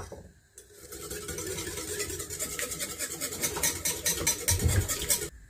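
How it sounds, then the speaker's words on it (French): Whisk stirring melted butter with lemon juice for a sauce, a steady scraping rasp against the bowl that builds in intensity over several seconds, close up with no talking. "on va venir mélanger tout ça au fouet"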